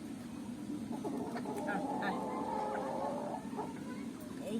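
Desi hens and roosters cluck softly in a yard, with scattered calls over a steady outdoor background.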